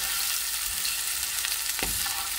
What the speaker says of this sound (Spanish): Aquí estoy friendo la cebolla